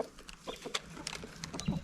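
A rooster among his hens in a backyard coop, with soft clucks and short calls scattered across the stretch, fairly faint against a low hum.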